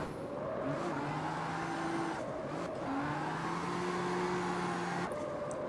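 A Mustang drifting sideways in the CarX Street driving game, its engine droning loudly and continuously with rising and falling pitch as the tires squeal through the slide, no voices.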